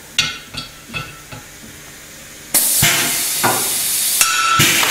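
Avdel 3/8-inch Monobolt rivet installed with a rivet tool, opening with several sharp clicks, then a loud pneumatic hiss with sudden snaps as the stem breaks.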